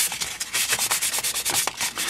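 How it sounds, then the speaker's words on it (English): Sandpaper rubs lightly over a primed ABS plastic body shell of a Tyco Baja Bandit RC truck, quick repeated back-and-forth strokes in an even, close, scratchy rhythm with no talking. "a nice light sanding."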